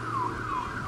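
A burglar alarm goes off with a loud, continuous wailing siren tone that sweeps up and down in a steady cycle, close by, over a low background hum and with no speech.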